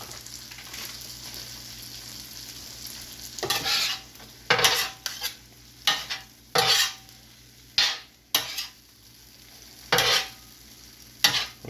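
A utensil stirs cheese into a filling on a Steelmade griddle in about eight short scraping strokes, each separated by a pause, over a faint steady sizzle.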